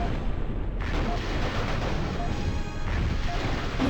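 A missile burst explosion in the 1998 MechCommander game: a loud, dense crash of blast noise that fills the whole stretch, with a brief dip before a renewed roar and sustained rumble.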